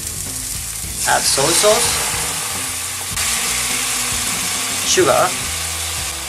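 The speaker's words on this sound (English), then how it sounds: "Add some vegetable oil. Stir fry green onion for about a minute." Green onion stir-fried in vegetable oil in a pan gives a steady sizzle with scraping stirs, while a person talks over it.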